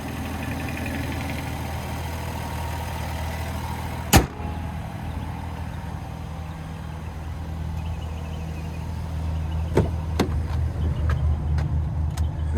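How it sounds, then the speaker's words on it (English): A 2025 Ram 1500 RHO's twin-turbo inline-six Hurricane engine idles with a steady low rumble, broken by a sharp click and a few lighter clicks toward the end. "there's that twin turbo inline 6, nicknamed the Hurricane"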